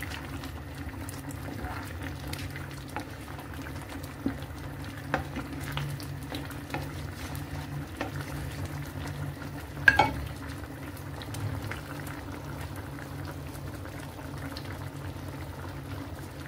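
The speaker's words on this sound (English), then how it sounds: "Keep stirring it so that it will not stick under." Veggie bolognese sauce simmering and bubbling in a pan while being stirred, a steady low bubbling bed with occasional soft scrapes and clicks of the spoon, close and continuous with no talking.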